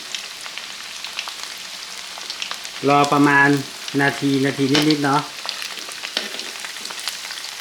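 Chicken sizzles and crackles steadily in a hot pan, a constant frying hiss with someone talking briefly over it in the middle.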